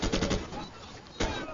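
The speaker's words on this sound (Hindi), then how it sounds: "देखो कैसे फायर कर रहा है" Call of Duty gunfire, two short rattling bursts of rapid shots, the first at the start and the second about a second later, loud and close, with a lull between them.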